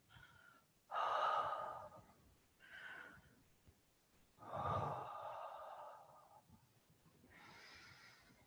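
Long breathy exhalations voicing the qigong "hu" healing sound for the spleen, four slow airy breaths spaced a second or two apart, soft and close, with quiet inhales between.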